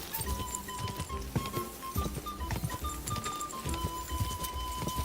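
Horse hooves clop in an irregular galloping rhythm within the video game Kingdom Come Deliverance 2, fairly close and steady, with game ambience and a faint steady tone behind.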